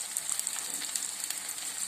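Onions, green chillies and ginger fry in a pan with a steady, moderately quiet sizzle and faint crackles, heard alone with no talking.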